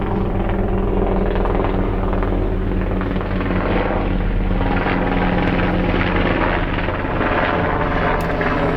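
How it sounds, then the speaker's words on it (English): A helicopter thunders overhead near the Gaza border with a constant, loud rotor drone that stays steady throughout and never fades. "I can hear a helicopter above me."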